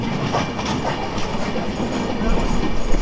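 An express train passes on the adjacent track in Bangladesh, heard close by from a stationary train beside it. There is continuous loud rumbling and clickety-clack of wheels on rails, growing heavier toward the end.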